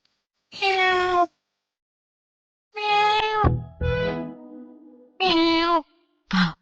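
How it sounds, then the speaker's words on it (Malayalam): A cat meows four times, close and clear, with pauses in between; one cry stretches longer and rises before falling off. "ആ കള്ള പൂച്ചയായിരിക്കും."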